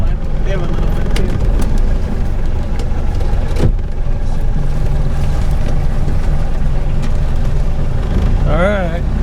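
Small budget boat engine idling steadily, a continuous low rumble with broadband water and wind noise throughout, and a brief voice near the end.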